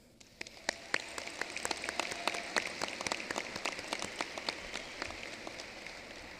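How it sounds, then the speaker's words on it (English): Applause at a high school commencement ceremony, scattered and fairly faint clapping with sharp individual claps standing out, steady and without voices. "I think we deserve a huge round of applause"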